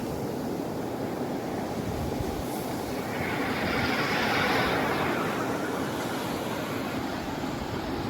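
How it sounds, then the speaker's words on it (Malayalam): Sea waves break on a beach with firm, hard-packed sand, making a steady broadband roar that swells to a louder surge midway and then settles back, with no voices. "നല്ല തിര ഇങ്ങനെ അടിച്ച് കൂടി വരുന്നുണ്ട് തിരമാലകൾ"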